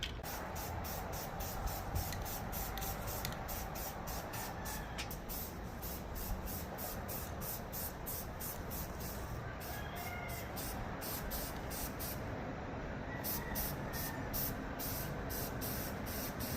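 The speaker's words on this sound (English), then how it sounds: "put that coat on it with the new can of spray paint" A new can of spray paint puts a coat on a car part, a Skunk2 magnesium K-series valve cover, in repeated hissing bursts with short gaps between them, close and steady over a soft background noise.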